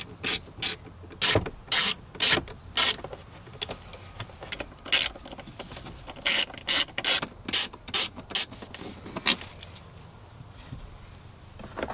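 A T15 driver ratchets in quick bursts of sharp clicking while backing out glove box screws inside a Chevy Silverado cab, with short pauses between runs and no talking.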